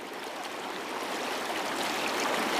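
Fast-flowing water of the Meander River rushes in a steady, close broadband wash that swells slightly louder toward the end, with no voices.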